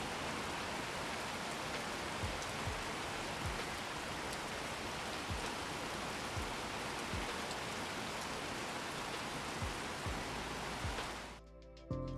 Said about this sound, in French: une seconde qui reproduit donc la pluie qui tombe sur les bâches que l'on voit au-dessus de nos personnages dans la scène.